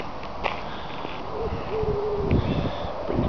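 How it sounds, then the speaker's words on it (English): Pigeons or doves coo softly in a park beside a golf course clubhouse, a few low hooting notes at moderate distance over faint outdoor background. "A bit of cooing."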